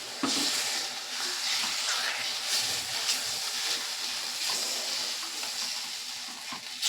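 Moong dal and poppy seed paste sautés in a pan over a low flame, making a continuous soft sizzle and hiss with scraping stir sounds and no talking.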